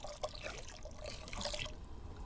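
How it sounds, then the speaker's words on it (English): Hot water and vegetable stock granules pour into a pot of soup made with coconut milk, butternut squash and sweet potatoes, giving a faint, soft, continuous trickle with no talking. "And now some vegetable stock, and that's to say hot water and vegetable stock granules."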